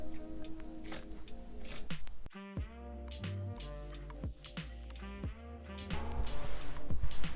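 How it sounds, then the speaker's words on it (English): Fabric scissors snipping through backing fabric around the edge of a punch needle rug, a close series of crisp repeated cuts with pauses between, over faint background music. "take our fabric scissors and cut, leaving about 1 inch of space around the entire edge"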